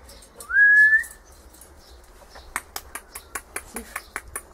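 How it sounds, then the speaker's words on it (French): A single short rising human whistle, followed by a series of sharp rhythmic snaps or clicks in a quiet room. "T'as l'air de siffler."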